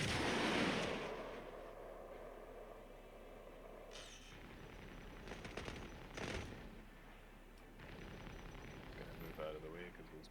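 Ship weapons firing during a video game boss fight against a Fury: a loud opening blast, then bursts of repeated gunfire-like shots around mid-clip and toward the end, with a voice talking over the action.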